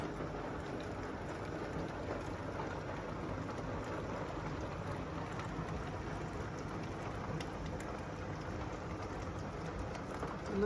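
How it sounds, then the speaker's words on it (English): Steady rain falls in a continuous, even hiss that stays constant throughout, with no voices. "Look at that rain."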